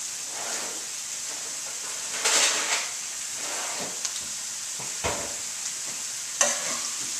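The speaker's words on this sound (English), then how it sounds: "just drop in 5 ounces of fresh organic spinach" Fresh organic spinach sizzles and hisses in a hot pan, a continuous close frying sound with a few louder bursts of stirring and scraping scattered through it.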